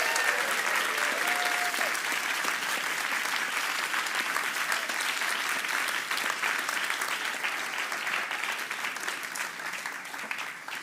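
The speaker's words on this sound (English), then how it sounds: "let's have a massive round of applause again for all the winners and all the judges" A large audience at an awards ceremony claps steadily and warmly for about ten seconds, a dense, even applause that tapers slightly at the end.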